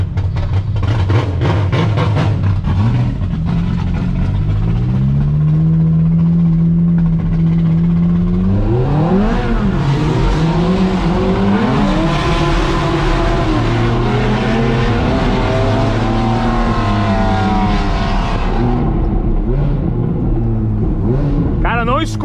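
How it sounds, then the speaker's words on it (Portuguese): Ferrari engine revved hard while parked, rumbling then climbing and falling in loud sweeping roars over several seconds, with people talking throughout. "Escuta o ronco do meu carro"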